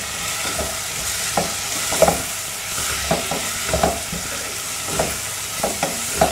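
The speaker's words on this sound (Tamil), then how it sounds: "இப்போ இதில் வந்து மிளகாய் தூள் சேர்த்துக்கணும், நம்ம மஞ்சத்தூள் சேர்த்துக்கணும்." Capsicum being stirred on a hot tawa with chili powder and turmeric powder, a steady sizzle broken by repeated sharp spatula scrapes and clinks at an uneven rhythm, close and clear with no talking.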